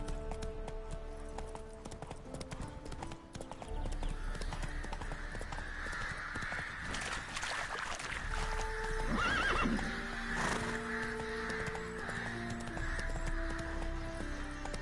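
Horse Roach in The Witcher 3 galloping with rhythmic hoofbeats and neighing midway, close and moderately loud, with crows cawing faintly in the background.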